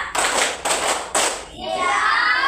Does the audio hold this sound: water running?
no